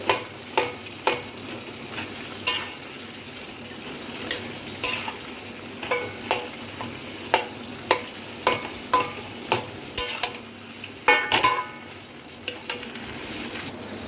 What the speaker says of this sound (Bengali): সবজিগুলোকে একটু খুন্তির সাহায্যে এইভাবে একটু ঘেটে নিচ্ছি